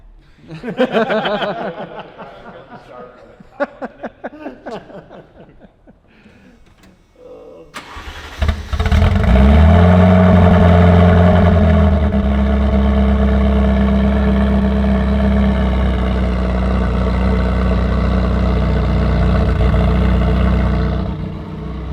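Ferrari F40 engine cranking to life and settling into a loud, steady rumbling idle close by, after a stretch of voices and laughter.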